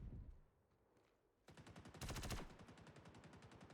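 A Gallant rifle in Star Citizen fires in bursts of rapid, evenly spaced shots, close and loud, after a brief quieter stretch.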